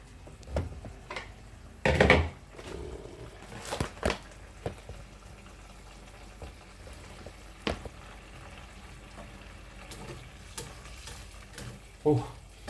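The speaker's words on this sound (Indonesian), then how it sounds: "ini nunggu sampai ininya mendidih lagi" Liquid bubbling steadily in a pot, with a few sharp clinks and knocks of utensils against the rim now and then.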